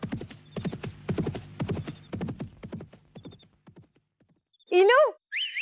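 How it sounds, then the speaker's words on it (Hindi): A horse in Chandni Chowk clops along with a run of steady, fairly close hoofbeats that slow and fade, then gives two loud, rising whinnies near the end. "ये चांदनी चौक में घोड़ा कहाँ से आ गया?"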